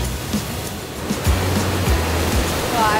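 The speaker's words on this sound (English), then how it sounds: "I love how the waves just like crash over the lava rock." Ocean surf washes and crashes over lava rock along Maui's Road to Hana coast, a loud, steady roar of surging water with swells rising and falling.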